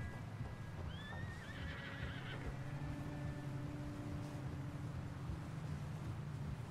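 A horse whinnies with a rising, wavering call while ridden in Red Dead Redemption 2, set against a low rumbling ambience and soft, steady hoofbeats, with no talking.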